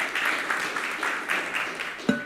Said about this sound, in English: So give him another round of applause